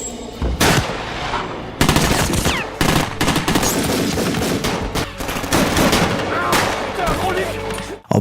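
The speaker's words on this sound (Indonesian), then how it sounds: "Aksi saling tembak terjadi dan tak sedikit polisi yang menjadi korban" Intense gunfire from a police-versus-criminals shootout in the film 36th Precinct: dense, overlapping shots and automatic bursts with loud cracks, sustained throughout under a chaotic action soundtrack.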